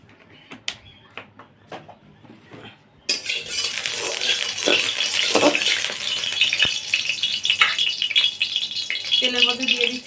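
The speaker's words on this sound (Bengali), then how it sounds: "কড়াইতে দিয়ে দিচ্ছি সর্ষের তেল।" Mustard oil goes into a hot wok on a stove: a few light utensil clinks, then an abrupt, loud, steady sizzling hiss that carries on to the end.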